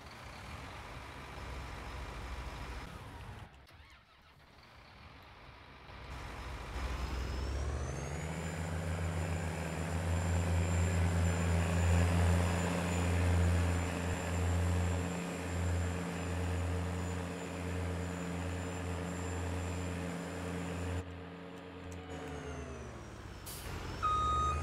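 A New Holland Versatile tractor engine in Farming Simulator 19 idles, then revs up into a loud sustained drone with a whining tone, later easing back down.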